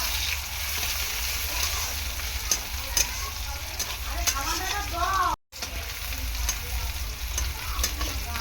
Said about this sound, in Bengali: পেঁয়াজটাকে ভালো করে আমি ভেজে নেব প্রথমে।